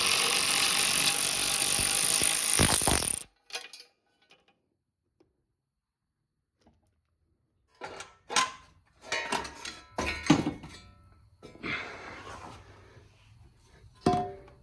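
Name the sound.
ratcheting wrench turning Toyota V8 exhaust manifold bolt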